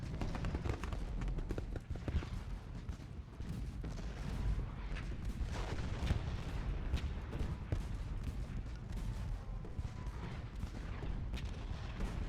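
Artillery fire in the American Civil War strategy game Ultimate General Gettysburg: a soft, distant rumble of battle with scattered cannon thumps and crackling shots, quiet and steady throughout.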